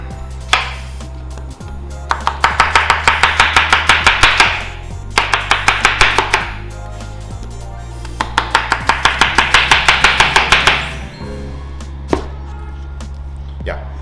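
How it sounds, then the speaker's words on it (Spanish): An onion being chopped with a knife on a cutting board: two quick bursts of rapid, crisp chops of about a dozen strokes each, with a few isolated knocks in between, close and loud. "voy a ir cortando la cebolla"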